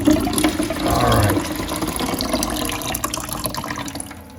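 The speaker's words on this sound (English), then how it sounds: "You're going to see more water coming out." Water gushes steadily from a Sloan toilet flush valve with the control stop shut off, a loud continuous rush with a stronger surge near the start and no talking over it.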